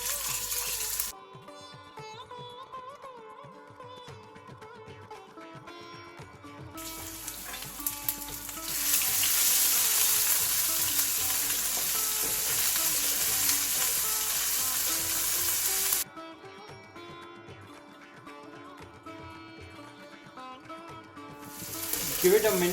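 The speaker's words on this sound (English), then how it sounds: "so that the ginger and garlic and the chili cooks and oozes out all its flavors in the hot oil" Ginger, garlic and chili paste sizzles loudly in hot oil with spluttering mustard seeds, a steady close frying hiss that swells and holds for several seconds between quieter stretches.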